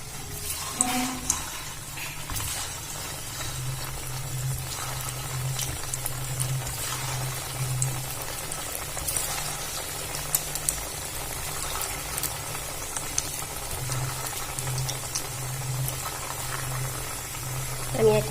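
Semolina langcha sweets sizzle and bubble steadily as they fry in hot oil, a continuous close crackling fizz with no voices.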